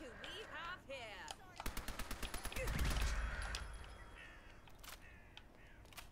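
An automatic weapon fires in Fallout London, the mod for Fallout 4: a quick burst of about ten evenly spaced shots ending in a heavier boom, with a voice talking briefly before the burst.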